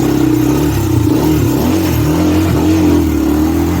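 A Honda TRX400EX quad's engine revs hard while riding, a loud, close, continuous roar with rising and falling pitch and rattling texture throughout, no voices.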